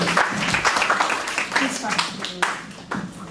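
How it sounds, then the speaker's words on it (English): Audience applause after a question-and-answer session at a university film screening, a short burst of scattered claps mixed with voices talking over it. "Shouldn't we applaud?"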